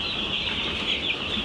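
Poultry being given Newcastle disease LaSota vaccine in their drinking water make soft clucking and rustling sounds around the drinkers, with a steady high-pitched background hiss and no talking.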